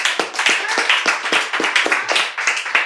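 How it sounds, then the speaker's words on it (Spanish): A church congregation claps for the Lord during a service, a steady run of sharp, fairly close hand claps in an irregular rhythm, with no talking over it. "Dale un aplauso al Señor."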